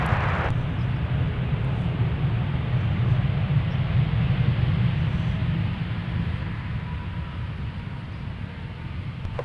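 A heavy Airbus A350 roars at Minneapolis–Saint Paul airport as a broad, steady rush of jet noise. The sound stays strong and continuous, then eases slightly toward the end.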